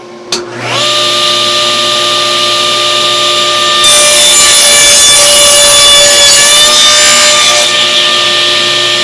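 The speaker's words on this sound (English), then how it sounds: "I'm going to gang cut about 4 of these at a time" A power saw whines up to speed and gang-cuts several wood pieces lined up against a stop block, very loud and close, with a sustained high tonal whine that deepens into a harsher cutting roar partway through.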